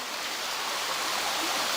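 Thirteen Feet waterfall near Poddomukh pours in a dense, steady hiss of falling water, loud and close, unbroken throughout.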